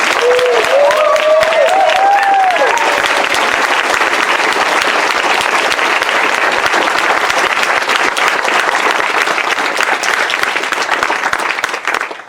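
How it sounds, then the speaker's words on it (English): Sustained applause from a large crowd at a school graduation ceremony honoring the senior class, loud continuous clapping that holds steady for the whole stretch, with a few brief voices and whoops early on. "Can I please have a round of applause for this incredible senior class?"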